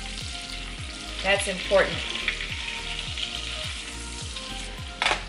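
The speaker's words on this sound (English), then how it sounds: "let me stir the sauce after I've added in an extra stick of butter" Seafood boil sauce with an extra stick of butter sizzles steadily in a pot while being stirred, with a few scraping stirs audible, close and continuous, and a person briefly speaks over it.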